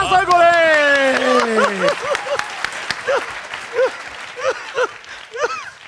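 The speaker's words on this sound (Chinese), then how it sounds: "掌声过来" Studio audience applause on a variety talk show, a burst of clapping and cheering that begins under a loud host's voice and fades into scattered claps and murmurs.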